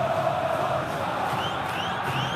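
Coritiba supporters in a football stadium at a 2011 Copa do Brasil match against Vasco, a broad, steady crowd roar with chanting voices and occasional rising whoops, continuous and moderately loud.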